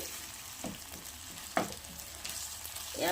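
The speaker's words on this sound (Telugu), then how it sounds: "4 టేబుల్ స్పూన్లు పెరుగు వేసుకుని సిమ్లో పెట్టుకుని ఫ్రై చేసుకోవాలండి." Yogurt frying on low heat in a pan for potato kurma, a steady soft sizzle with a few brief stirring scrapes close by and no talking.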